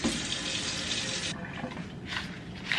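Hot water runs from a home tap while dye is prepared for a tie-dye hoodie: a steady, fairly loud hiss of flowing water for over a second, then a quieter trickle with splashy bursts as the stream is disturbed.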